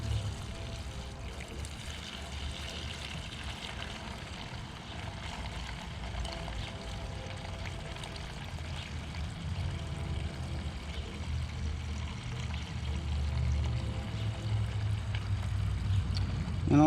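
Fresh gasoline poured into the fuel tank of a 1979 Camaro, a steady continuous gurgling pour that holds fairly even and swells slightly toward the end.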